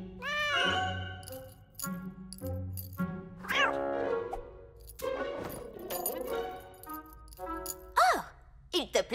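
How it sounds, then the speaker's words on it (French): Cartoon cat meowing in a French-dubbed Polly Pocket animated episode, several drawn-out, rising and falling meows in quick succession, close and fairly loud, mixed with music and other sound effects. "C'est encore ce chat!"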